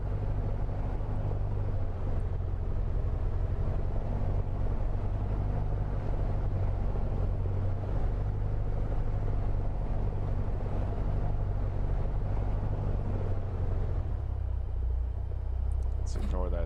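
Piston engine of a DC-3 aircraft idling in Microsoft Flight Simulator 2020, a steady low droning rumble held for the whole stretch with a faint swell near the end, heard alone without talk.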